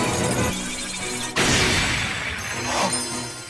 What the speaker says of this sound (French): C'était le bruit de la tasse sacrificielle qui se brisait en 1000 morceaux